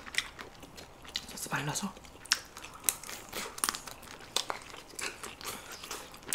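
Steamed seafood with octopus and lobster being torn apart by hand and chewed, with close crunchy bites, crinkling and wet mouth sounds coming in irregular bursts, under quiet Korean conversation.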